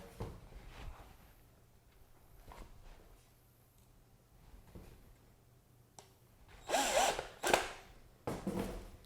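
A power drill drives half-inch sheet metal screws through a hanger into a piece of driftwood, giving short, fairly quiet bursts of whirring near the end amid soft handling noises.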